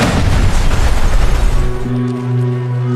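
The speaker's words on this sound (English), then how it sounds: "a lazy Labor Day weekend is shattered by an enormous explosion" An enormous explosion from a mid-air collision between two planes fills the clip with a loud, sustained low roar that fades into a steady humming drone.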